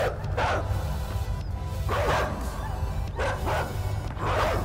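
A dog in the video game Inside barks in several repeated bursts, close and fairly loud, over a steady low rumbling background.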